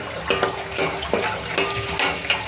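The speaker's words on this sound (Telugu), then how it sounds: "ఉన్నంతా జీడిపప్పు వేస్తున్నాను. వేపించుకోవాలి, దోరగా వేపుకుంటే బాగుంటుంది." Cashews frying in oil in a pan on a stove, a close, steady sizzle with intermittent sharp spits and stirring scrapes throughout.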